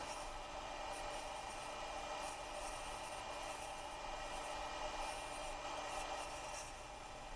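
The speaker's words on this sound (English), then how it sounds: "Back with the bowl gouge here. Trying to make the subtle curves of the vase." A bowl gouge shaves a wooden vase spinning on a lathe, producing a steady, continuous hiss and rasp of cutting wood with an even, unbroken tone throughout and no voices.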